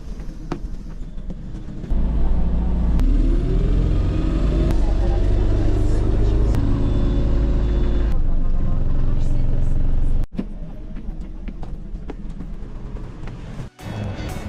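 A city bus in Lithuania pulls up to a stop with a loud, low engine rumble and rising drivetrain whine, then settles to an idle amid street noise and occasional knocks.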